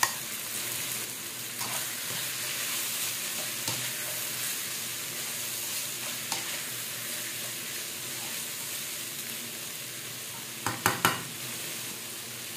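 Bottle gourd and shrimp fritters fry in hot oil with a steady close sizzle and hiss throughout, with a few soft stirring taps and a quick cluster of clinks near the end.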